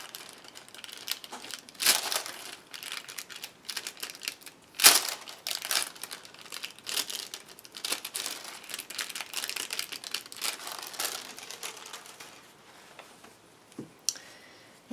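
Crinkly transfer foil handled and crumpled close by during a craft session, a steady stream of rustling crackles with sharper crinkle bursts scattered throughout, no talking.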